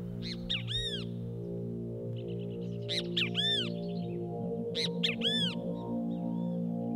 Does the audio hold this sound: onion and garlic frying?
no